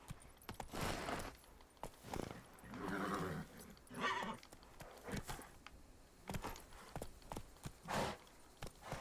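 Roach, Geralt's horse in The Witcher 3: Blood and Wine, galloping with rhythmic clip-clop hoofbeats and a neigh, close and moderately loud amid game ambience.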